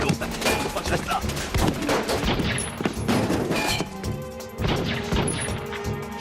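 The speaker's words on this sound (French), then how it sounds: "Fusillade à Piémont, dans la zone industrielle." Gunfire in a shootout in the industrial zone of Piémont, heard as dense, loud volleys of sharp bangs and crashes that run almost continuously, with a fresh burst near the end.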